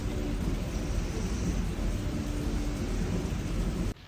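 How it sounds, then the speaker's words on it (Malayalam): Heavy rain pours steadily at a forest resort near Bandipur, a dense, low, rumbling wash of sound that stays constant before cutting off abruptly. "നല്ല മഴ പെയ്യുന്നുണ്ട് കേട്ടോ"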